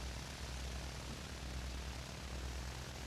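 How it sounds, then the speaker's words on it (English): A propeller airplane in the game OCRP climbs away after takeoff, a steady, loud engine drone with a low throbbing hum that holds evenly throughout, with no voices. "The way that plane just took off?"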